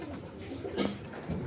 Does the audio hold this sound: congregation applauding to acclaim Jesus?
no